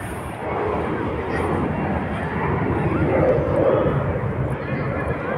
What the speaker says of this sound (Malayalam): ഫ്ലൈറ്റ് പോകുന്നു, ഇവിടെ അടുത്താണ് ലൂട്ടൺ എയർപോർട്ട്.